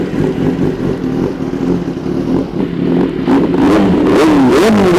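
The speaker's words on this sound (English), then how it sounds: "So now let's hear the sound of the bike" Kawasaki ZX10R sport bike fitted with an Arrow aftermarket exhaust, idling with a rough engine note and then revving in rising and falling sweeps, loud and close, growing louder toward the end.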